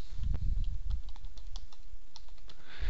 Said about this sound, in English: I'm going to go ahead and type that IP address in again.